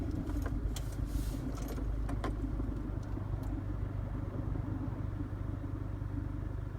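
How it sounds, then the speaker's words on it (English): Road traffic rumbles past outdoors, a continuous engine drone with a vehicle swelling nearby early on before easing into a steady low wash of passing cars. "there's a little bit of traffic"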